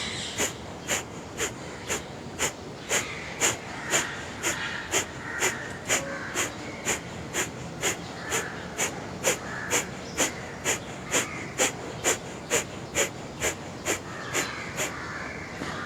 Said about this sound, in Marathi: कपालभाती करताना दोन्ही हात गुडघ्यांवरती ठेवून पाठ ताठ ठेवून श्वास सोडून पोट आतमध्ये घ्यायचं.